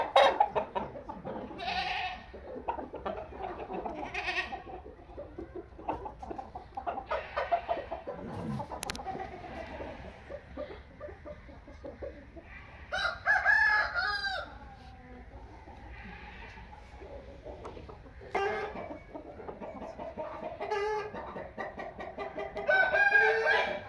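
Aseel roosters crowing and clucking among other farm birds, with repeated crows rising over a busy, cluttered yard of calls and scattered clucks, fairly close and continuous.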